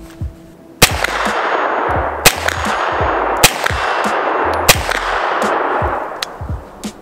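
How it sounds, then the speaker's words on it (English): A CZ Scorpion Evo 3 S1 fires slow, evenly spaced single shots at an outdoor range, each a sharp, loud crack with a ringing tail, about six in all. "I'm gonna shoot a couple more, a little bit slower, and make sure it's not me."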